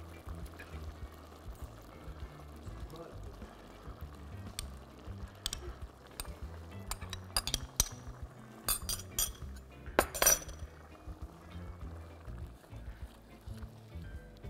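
Red kidney beans tipped into a pan for nachos, a cluster of light clinks and tapping of utensil on metal, building to a brief louder rattle, close and clear over a low hum.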